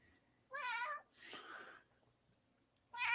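A purebred Bengal cat lets out a clear, close meow, then a breathier, rougher call, and after a short silence starts another loud meow.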